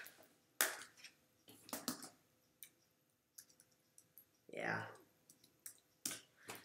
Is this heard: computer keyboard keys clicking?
yes